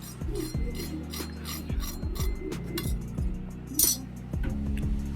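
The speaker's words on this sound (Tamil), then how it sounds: "ஸோ நல்லா பொரிச்சு எடுத்ததுக்கப்புறம் அது எந்த அளவுக்கு கிறிஸ்பியாக இருக்குங்கிற சவுண்டு நீங்களே கேளுங்க" Crispy deep-fried beef cutlets being handled, dry scraping and rasping crunches with light clinks of utensils against a dish, several close, distinct strokes over a quiet kitchen hum.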